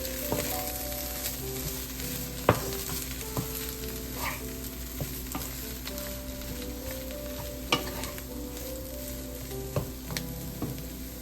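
Chopped coriander being stirred into a sizzling prawn mixture in a pan for prawn chops, a continuous soft fry with scraping strokes and intermittent spatula taps, close by and without talk.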